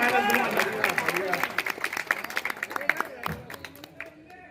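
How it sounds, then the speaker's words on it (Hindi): Audience at a Hindi poetry recital breaking into scattered clapping that builds and then thins out, mixed with crowd murmur and a speaking voice throughout. "अच्छा लगा तो तालियां बजाओ एक बार यहाँ पे"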